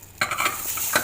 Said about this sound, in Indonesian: Kita aduk. Kita taruh semua aja